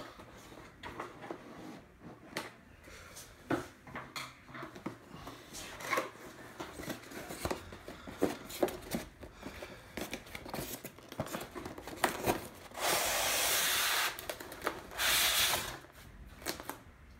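Scissors cutting open the box of a JXD 509W quadcopter drone, with quiet snips, cardboard scraping and rustling that build to two louder bursts of tearing or sliding near the end, with no talk.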